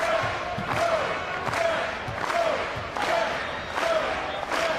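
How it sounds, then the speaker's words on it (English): A men's college volleyball crowd claps in unison in the arena, steady rhythmic claps repeating about once a second, loud and full, with some crowd noise beneath. "Crowd clapping in unison as Humler brings it, sends it long."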